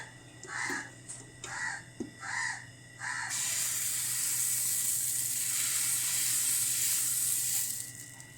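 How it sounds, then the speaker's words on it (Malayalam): Dosa batter poured onto a hot pan sets off a loud, steady, close sizzle that holds for several seconds, after a few crow caws and soft breathy sounds. "ഇനി നമുക്ക് നമ്മുടെ പാൻ ചൂടായിട്ടുണ്ട് അതിലേക്ക് നമുക്ക് മാവ് ഒഴിച്ചു കൊടുക്കാം"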